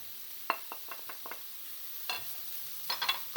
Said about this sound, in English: keep frying the gobi and all the masala for at least 3 to 4 minutes